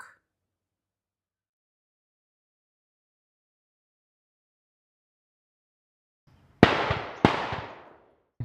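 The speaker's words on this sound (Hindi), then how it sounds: "अगर आप लोगों को साउंड आ रहा है तो ये शूट हो रहा है, मतलब लिटरली में वो फायरिंग हो रही है पीछे" Two sharp gunshot cracks in the background at a labour square, spaced under a second apart, after a long quiet stretch, fairly distant and alone.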